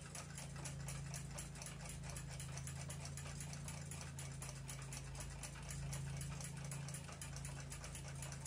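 A Westclox Big Ben alarm clock's balance wheel mechanism runs close up, giving a steady, fast mechanical ticking with a constant low hum underneath, continuous and even throughout.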